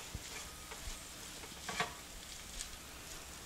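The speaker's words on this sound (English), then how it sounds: "and now I'm just going to stir those in" Chili powder and cumin stirred into a sizzling pan, soft scraping strokes over a faint, steady fry, quiet and close.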